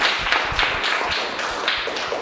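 A small audience claps after classroom presentations, giving a short, moderately close patter of hand claps lasting a couple of seconds.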